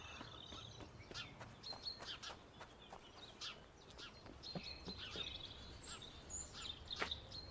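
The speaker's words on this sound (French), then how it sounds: "Les oiseaux." Birds chirp and tweet in a video game scene from Chop Chop Inc., with quiet, scattered, bright calls repeating over a soft ambient background.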